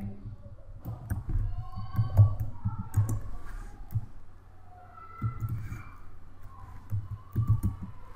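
Typing on a computer keyboard while building a PowerPoint slide, with clusters of soft key presses in short irregular bursts separated by brief pauses, fairly close and unaccompanied by talk.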